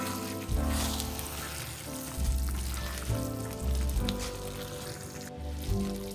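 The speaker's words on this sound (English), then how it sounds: "we're going to mix until well combined" Seasoned ingredients with oregano and red pepper flakes, for chicken Florentine, being mixed in a sizzling pan, a constant frying hiss with periodic low scraping strokes of a utensil, close and steady.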